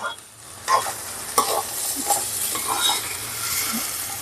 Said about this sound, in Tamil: அந்த ஸ்டார்ச்செல்லாம் லாக் பண்ணுறதுக்காக இந்த மாதிரி லைட்டாக ஃப்ரை பண்ணிப்பாங்க